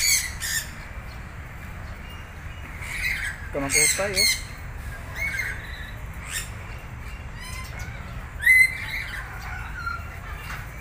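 Birds squawk and call repeatedly at a wildlife park, with several sharp, fairly close cries spread through the stretch and a louder burst near the end, over steady background murmur while people talk nearby.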